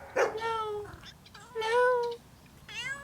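A frightened pet cat meows close by in three distinct, drawn-out cries with short pauses between them, clear and fairly loud with little else around.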